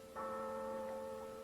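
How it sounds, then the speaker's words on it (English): A church passing bell tolls for the dead, a single faint, distant stroke with a steady humming ring that sustains without fading. "That's the passing bell for the dead."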